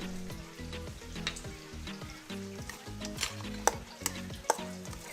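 Chicken tofu sisig being stirred and mixed in a hot pan, a steady sizzle under rhythmic scraping strokes with a few sharp utensil clinks against the metal.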